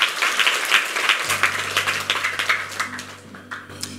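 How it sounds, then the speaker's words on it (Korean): A church congregation at a Friday evening Holy Spirit meeting applauds warmly to welcome a deacon to the front, dense clapping throughout over a low sustained organ or keyboard tone that enters partway through. "우리 집사님 큰 박수로."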